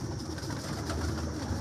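Pigeons kept for sale at a breeder's loft give low, soft cooing calls, a steady murmur of several birds close by with no voices over them.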